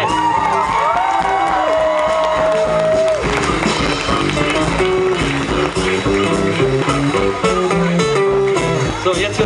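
A crowd at an outdoor medieval market festival in Karlsruhe applauds and cheers during a band's mock advertising break, loud continuous clapping mixed with whoops, shouts and music-like tones throughout.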